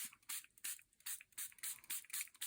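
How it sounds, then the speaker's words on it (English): Homemade yellow alcohol ink is sprayed onto paper from a pump bottle in about nine quick, even bursts of hissing mist, close and clear with no voices. "let's take our yellow and spray it on here."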